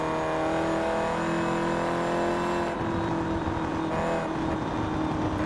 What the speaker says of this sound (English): Let's hear the exterior sound. It's actually pretty quick for such an old car.